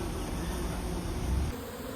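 A continuous buzzing hum of many honeybees flying close by at a hive entrance during orientation flights, dense and steady, with no voices.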